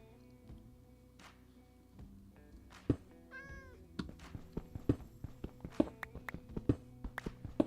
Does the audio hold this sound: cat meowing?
yes